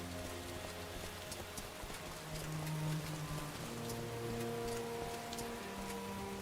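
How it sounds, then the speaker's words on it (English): Steady rain pours in the Morrowind game world under cloudy skies, a continuous dense hiss of drops with soft tonal game ambience beneath, holding evenly throughout with no one talking. "bad weather all in all. Very cloudy, very rainy."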